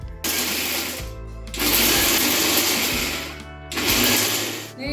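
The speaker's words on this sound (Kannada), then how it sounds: "ಇದನ್ನು ಮಿಕ್ಸರ್ಗೆ ಹಚ್ತೀನಿ ರೀ." An electric mixer grinder whirs through roasted gram chutney powder with spices, running in loud bursts of a couple of seconds separated by short pauses.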